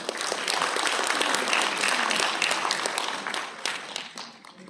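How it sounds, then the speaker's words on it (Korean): Audience applause welcoming the president of a Korean voters' federation at a national audit awards ceremony, a dense, steady wash of many hands clapping that holds strong and then tapers off toward the end. "뜨거운 박수로 환영해 주시기 바랍니다"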